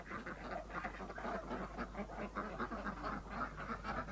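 Ducks quacking continuously in a noisy group, a dense overlapping chorus of poultry calls in a permaculture farmyard, fairly loud and steady throughout with no talking.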